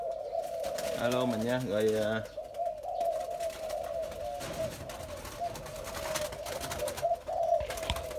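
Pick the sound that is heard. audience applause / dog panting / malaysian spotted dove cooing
malaysian spotted dove cooing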